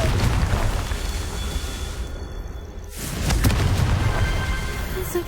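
A Confringo blasting spell explodes in the Hogwarts Legacy video game: a loud, noisy boom with a whooshing rush, a brief drop in the middle, then a second swell of blast noise.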